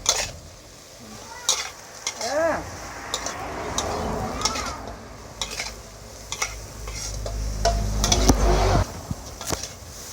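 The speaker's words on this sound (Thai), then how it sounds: "ผัดกระหล่ำปลีใส่ไข่" Cabbage and egg stir-fried in a pan, with a spatula scraping and clinking against the metal over a soft sizzle, close by with occasional talk in the background.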